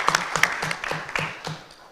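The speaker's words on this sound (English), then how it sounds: "Let us give them a round of applause." An audience at a legal awareness week event gives a brief, scattered round of applause, a few distinct claps fading out within two seconds.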